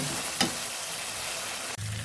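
Paste of boiled tomato and green chili frying in a pan, a close, steady sizzle with a quick stirring scrape near the start and a brief dip just before the end.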